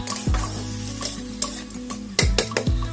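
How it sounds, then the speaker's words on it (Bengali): Vegetables, green papaya and banana stem with ginger and a little water, are stirred and sautéed in a pan: a soft sizzle runs underneath while a spoon scrapes and knocks against the pan several times. "সামান্য জল দিয়ে আমি ভালো করে কষিয়ে নেবো যাতে এগুলো ভালো করে কষানো হয়ে যায়"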